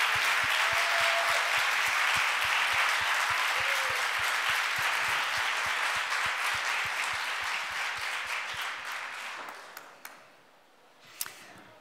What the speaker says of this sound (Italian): abbiamo Yam a cui facciamo un applauso